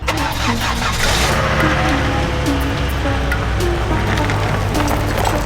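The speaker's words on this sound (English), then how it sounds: "we gotta do a little car shuffle because this thing's going in the garage" Engine of a budget BMW Z4 convertible running steadily as the car is shuffled toward a garage, a close, continuous mid-pitched rumble with a faint hiss over it and no talk.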